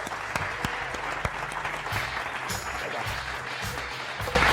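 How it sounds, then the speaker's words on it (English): An audience at a startup networking event in Barcelona applauds a speaker as he is welcomed on stage, a continuous moderately loud stretch of clapping with a few sharper claps standing out. "Big applause for him."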